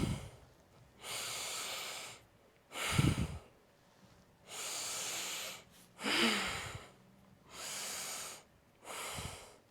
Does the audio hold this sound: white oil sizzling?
no